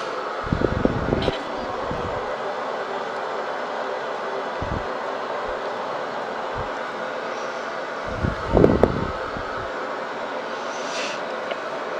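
Steady broadband roar of a light airplane cruising at 3,000 feet heard from inside the cockpit, continuous throughout with a few low bumps and brief thuds, voices talking faintly over it.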